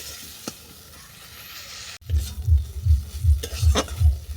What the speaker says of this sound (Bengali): বিনসটাকে আমি ভালো করে কষিয়ে নেব